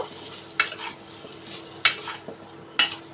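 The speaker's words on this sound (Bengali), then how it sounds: "এই তেলটার সঙ্গে এটা ভাজা হলে সুন্দর ফ্লেভার আসবে" Spices with salt and turmeric frying in oil in a pan for a mango bori curry, a soft sizzle beneath slow stirring scrapes and three sharp spoon clinks against the metal, close and moderately loud, no talking.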